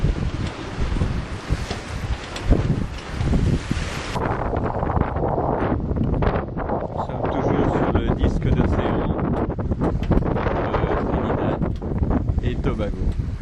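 Strong wind roars across the microphone aboard a Lagoon 380 catamaran tacking under sail against wind and the Orinoco current near Trinidad and Tobago, a loud continuous buffeting rush with water noise beneath and no engines running.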